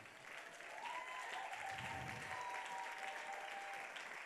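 Church congregation applauding and cheering in a steady, dense wash of clapping that swells and holds throughout, with a faint sustained tone above the crowd.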